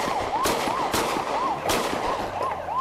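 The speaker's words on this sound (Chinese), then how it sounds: "巡逻员警连续开枪，企图制止驾车冲撞警方的白色轿车" Police patrol officers fire repeatedly at a white car ramming them at night, several sharp gunshots spread over a few seconds amid a wailing siren and general street commotion.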